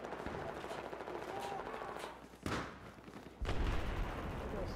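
Gunfire from the video game Battlefield 4 in a hardcore match, sharp distant-to-mid bursts and thumps scattered across the moment, with a louder cluster near the end, under the low murmur of players talking.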